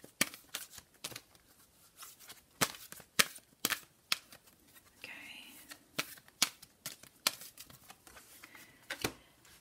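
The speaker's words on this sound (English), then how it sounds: "I'm going to go ahead and shuffle these cards" Oracle cards being shuffled in repeated quick riffling bursts, close and crisp, with a few soft pauses between.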